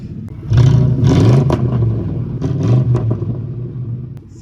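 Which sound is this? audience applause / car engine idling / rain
car engine idling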